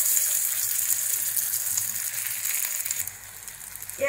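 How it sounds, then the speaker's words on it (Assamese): Chicken shami kababs fry in oil in a pan over a low flame, giving a steady, close hiss and crackle of sizzling that runs without pause and with no talking. "এয়া মই ভাজি আছো কাবাবখিনি"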